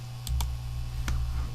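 Three sharp keyboard clicks from a computer being used to unzip and copy files, spaced unevenly over a second and a half, close and distinct above a steady low electrical hum, with no talking.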